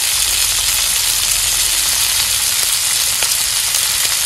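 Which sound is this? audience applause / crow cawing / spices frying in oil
spices frying in oil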